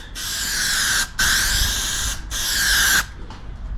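Aerosol guide coat sprayed onto the bodywork of a Nissan D21 Hardbody truck during blocking: three sustained hissing bursts, close and loud, separated by brief pauses, with a faint shorter puff at the end.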